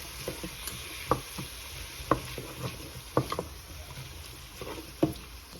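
Pot roast vegetables and tomato paste cook in a pot with a soft, low sizzle, broken by several louder scrapes and clacks of stirring spaced about a second apart.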